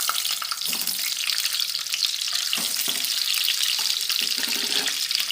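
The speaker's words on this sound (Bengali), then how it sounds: "ওই তেলের ভিতরে ডিমগুলোকে হালকা করে ভেজে নেব" Eggs lightly frying in hot oil in a pan while cooking egg korma, a steady bright sizzle with occasional soft clinks and stirring sounds, close and continuous.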